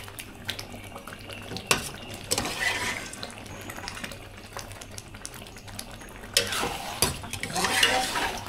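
Beef is stirred into a sautéed spice paste in a large pot for Padang Pariaman-style rendang made with 3 kg of beef, giving a continuous scraping, wet stirring sound over a low sizzle with occasional clanks of the utensil.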